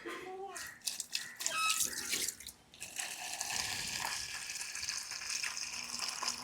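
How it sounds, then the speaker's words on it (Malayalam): Water is poured and splashes into a cats' drinking bowl, starting with a few clinks and short splashes and then running as a steady close stream, with a voice heard briefly early on. "നമ്മൾ വെള്ളം മാറ്റിയെടുക്കുകയാണ്"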